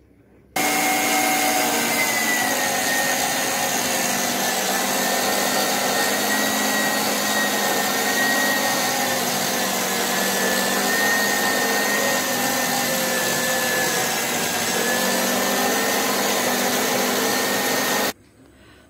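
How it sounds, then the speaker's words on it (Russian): Electric meat grinder mincing chilled beef runs as a steady, loud motor whir with a grinding hum, starting abruptly and holding constant for about seventeen seconds before cutting off. "Сейчас мы просто пропускаем мясо через мясорубку."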